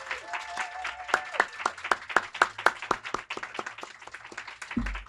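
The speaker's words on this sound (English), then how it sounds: "let's just give a big round of applause for the staff of this branch library" A room of people at a Los Angeles Public Library branch dedication gives library staff a round of applause: dense, steady clapping from a crowd at moderate distance, ending with a soft thump.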